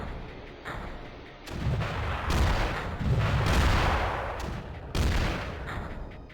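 Weapons and missiles firing in the strategy game Creeper World: dense rumbling bursts of artillery-like fire and booms rolling in several waves, loud and continuous with brief lulls between volleys.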